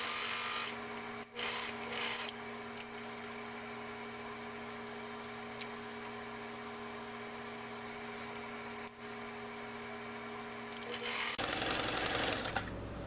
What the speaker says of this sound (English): And you do a 1/4 inch seam. And you always back stitch.